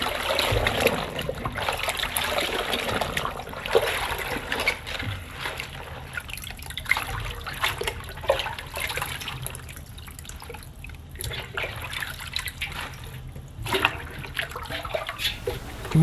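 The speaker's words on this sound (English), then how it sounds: "Submerge each one in cold water to get the dirt out." Bok choy is dunked and swished in a basin of cold water, with close drips, trickles and light splashes recurring over a soft background, no clear talking.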